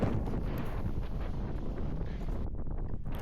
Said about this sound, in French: Là, il y avait un vent de malade